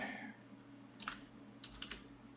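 Keys tap on a computer keyboard while typing text, a few quick soft clicks in two short bursts over faint room hum, no talk.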